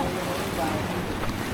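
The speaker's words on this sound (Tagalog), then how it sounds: "Magalaw ang alon." Rough sea waves wash and slap around a boat off Ternate, Cavite, a steady, close rush of water mixed with wind noise buffeting the microphone, with faint voices underneath.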